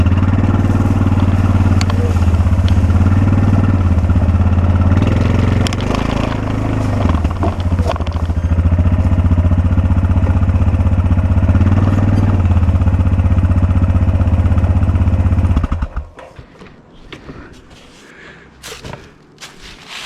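A close, loud ATV engine drives in four-wheel drive low range, a steady low chugging drone with small surges, then cuts off near the end, leaving faint clatter and quiet rustling.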